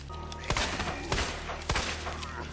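Repeated gunshots from Leon's weapon in the Resident Evil 2 Remake game, a few loud bursts spaced about a second apart over a dense, continuous game soundtrack.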